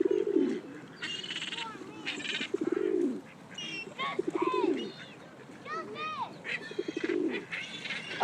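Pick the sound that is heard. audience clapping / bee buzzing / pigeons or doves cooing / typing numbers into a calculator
pigeons or doves cooing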